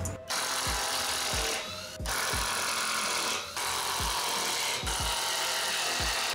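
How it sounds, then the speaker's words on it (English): A power drill whirs in repeated bursts, drilling holes in wooden boards, each run broken by short pauses, with knocks and thumps of wood in between. "So I'll drill some holes in them."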